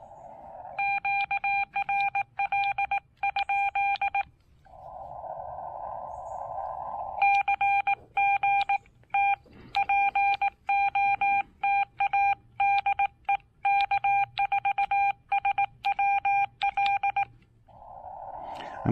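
Morse code keyed on a Xiegu X6100 radio during an outdoor park activation, heard as clean, steady tone bursts in quick dot-and-dash runs with brief gaps, close and clear.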